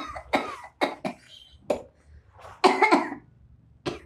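A woman receiving acupressure therapy gives a series of short, sharp coughs, about six bursts spread unevenly, close and loud in a quiet room, with no talking.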